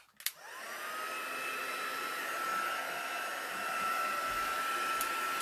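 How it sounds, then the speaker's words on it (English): A heat gun blows a steady, loud whooshing hiss with a faint whine as it dries ink on a stamped card, starting with a click and running continuously with no talking. "I hope you can hear over the heat gun."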